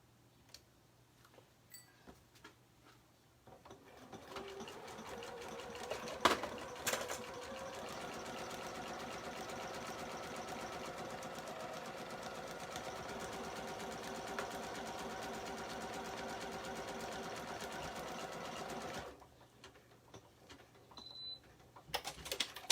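A domestic sewing machine works a second buttonhole on a garment in one steady run of about fifteen seconds. The motor hums evenly with a fine rapid stitching texture, and quiet handling noises come before and after.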